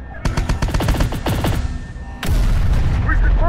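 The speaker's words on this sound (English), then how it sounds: "Taking fire. Vehicle taking fire." Heavy automatic gunfire in the video game Terminator: Dark Fate - Defiance, sustained machine-gun bursts striking a vehicle, then a loud, dense roar of impacts and rumble as the firing intensifies.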